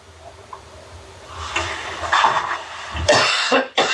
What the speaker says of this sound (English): did I scare you, that cough?